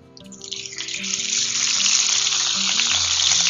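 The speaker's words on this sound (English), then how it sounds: "We just keep in this frying oil for a few minutes." Squid pieces dropped into hot frying oil set off a loud, close sizzle that swells quickly and then holds as a steady crackling hiss, with faint low music or hum underneath.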